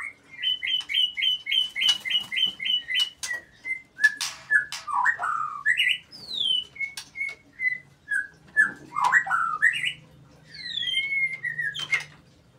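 A male oriental magpie-robin sings nearby, starting with a fast run of repeated whistled notes, then moving into varied, slurred melodic phrases with brief pauses.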